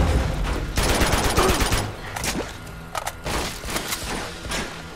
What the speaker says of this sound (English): Blind cover fire.